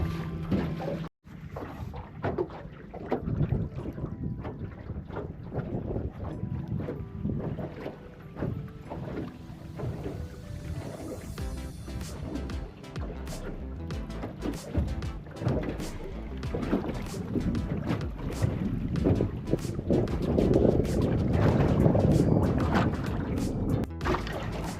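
Wind rushes steadily over open water aboard a small fishing boat at sunset on a calm day, with choppy wave slaps and gusty microphone buffeting building toward the end.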